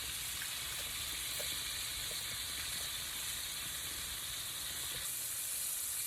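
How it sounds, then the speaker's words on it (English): Shrimp fry in a pan, a constant bright sizzling hiss with faint crackles and pops, steady and close with no pauses. "We're just going to let that fry until it's golden brown"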